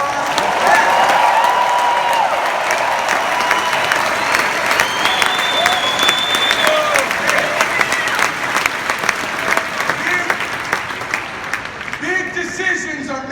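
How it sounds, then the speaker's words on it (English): Loud, sustained applause with some cheering from a large national business convention crowd, crisp clapping filling the hall before thinning out near the end, with a voice briefly heard over it. "Can we give all the speakers a big round of applause?"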